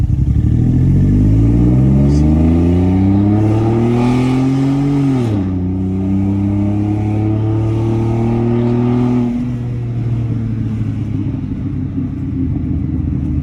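A BMW E92 328i coupe fitted with Active Autowerke headers revs up strongly, its loud, rising engine note climbing and then dropping back to a steady, raspy idle, close and unbroken by talk.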